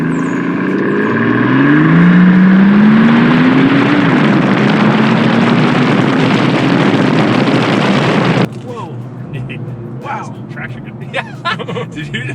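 A twin-turbo V12 Mercedes engine revs at half throttle, a loud, near roar that climbs in pitch for about eight seconds and then cuts off abruptly, leaving quieter idle and background sounds.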